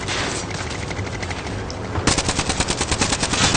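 Gunfire in the video game Warzone on Rebirth Island: a sustained stream of rapid automatic shots, getting louder and more distinct with a sharp rhythmic burst in the second half, with no talk.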